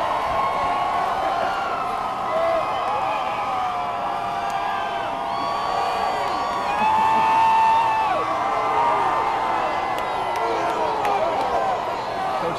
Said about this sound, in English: you can hear the crowd. Let's listen to the crowd for just a second.